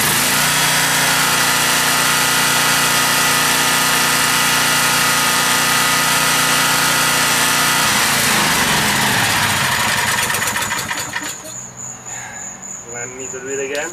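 Small portable generator engine running on LP or natural gas after a rope-pull start, a loud steady buzzing drone that holds for about ten seconds and then settles into a rougher, slightly wavering idle.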